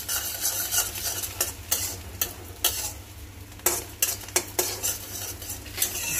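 Onions sizzling in a pan while being stirred, with repeated scraping and clinking of a utensil against the metal in an uneven rhythm over a steady frying hiss, close and fairly loud.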